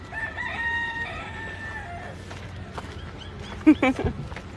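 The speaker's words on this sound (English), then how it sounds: "Chickens!" Chickens crow and cluck close by, a drawn-out rooster crow opening followed by short clucks and a few sharp knocks, while a person speaks.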